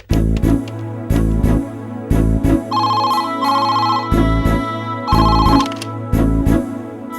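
A telephone rings after a grandmother dials a call, loud, close bursts of electronic ringing repeated in a regular pattern, with no voices.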